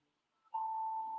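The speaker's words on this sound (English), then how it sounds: "sorry, my alarm went off." A phone alarm goes off mid-conversation, a single steady electronic tone that starts abruptly and holds on, loud and alone.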